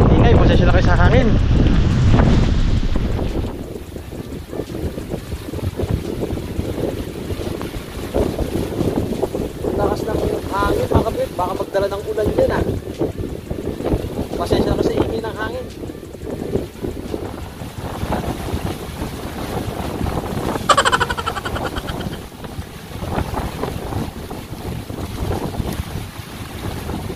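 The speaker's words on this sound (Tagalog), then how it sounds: "Ingay, pasensya na ka sa hangin." Strong wind buffeting the microphone beside a river in the countryside, a steady loud roar and rumble that gusts and eases throughout, with faint voices now and then beneath it.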